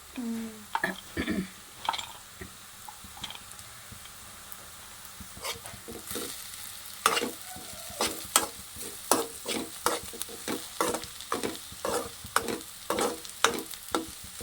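Lentils and spice powders roasting in a dry pan, with repeated rhythmic scraping strokes of a spoon stirring them over a faint frying hiss, close and fairly even, and no talking.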